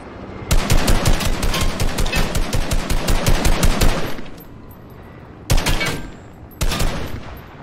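Rapid automatic gunfire in Fortnite, a long close burst of evenly spaced shots lasting several seconds, then a pause and two shorter bursts.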